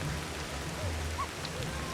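Rain falls in the video game Ancestors as a soft, steady patter, faint and continuous with no voices.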